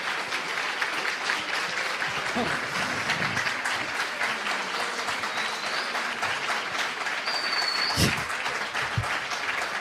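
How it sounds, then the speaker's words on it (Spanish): Audience applause fills a book fair closing debate, sustained and fairly loud throughout, with a brief sharp knock near the end. "iban y venían los aplausos de una manera bastante sorprendente"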